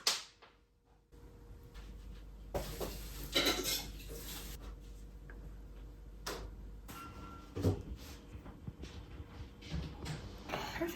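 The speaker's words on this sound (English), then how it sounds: "I'm just gonna slice some cherries" A knife slices cherries on a board: close, light cutting taps and clicks come at irregular intervals, mixed with dish and cutlery clatter over a faint background hum, with no talking.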